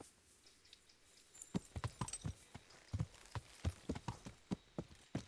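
Hooves of a horse clip-clopping in Kingdom Come: Deliverance, a steady walking rhythm of distinct close knocks beginning after a quiet second and running to the end.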